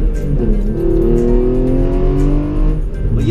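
A lowered Hyundai Genesis Coupe drives along with a loud, steady engine drone and smooth rising and falling pitch, heard close from the cabin.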